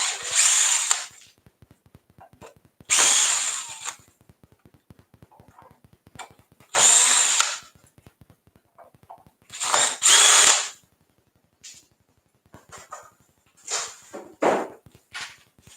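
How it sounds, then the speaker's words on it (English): Power drill backing screws out of a faceplate on a wood-turned bowl at a live bowl-turning demonstration, several loud whirring bursts of a few seconds each separated by quiet gaps, with lighter clicks and handling noise between. "I'm just going to pull the screws out."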